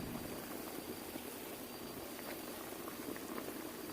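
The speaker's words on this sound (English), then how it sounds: "Just boiling away, and peanuts do float." Green peanuts boil steadily in a stock pot, a constant rolling bubble and hiss that stays even throughout, quiet and close.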